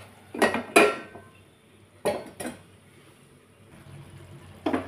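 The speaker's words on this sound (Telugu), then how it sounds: "ఇప్పుడు స్టవ్ తగ్గించేసుకొని దీని మీద సరిపడా మూత పెట్టేసుకుందాం." A metal lid clanks onto a pan on a stove in a home kitchen, a few sharp, quiet clatters and knocks spaced over several seconds with low background hum.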